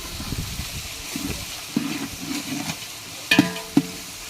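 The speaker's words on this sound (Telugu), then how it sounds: "అల్లం వెల్లుల్లి పేస్ట్ అయితే వేసుకుందామండి వేసి పచ్చివాసన పోయే వరకు అయితే వేసుకుందాం" Ginger garlic paste frying in a pot over a wood fire, with soft bubbling sizzle and occasional stirring scrapes, then a few sharp clanks of a utensil against the pot near the end.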